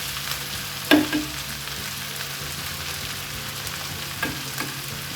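A steady soft sizzle comes from anchovy curry with green banana and mango simmering in a pan. A single clink of the stirring utensil rings out near the start and faint scrapes follow later. No voice is heard.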